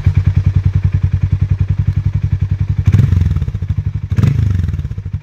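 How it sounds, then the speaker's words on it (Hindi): Exhaust of a Hero Mavrick 440 motorcycle: a close, loud, rhythmic single-cylinder thump at idle, broken by two quick throttle blips that swell and fall back into the steady beat. "हीरो मैवरिक 440 का एग्जॉस्ट नोट"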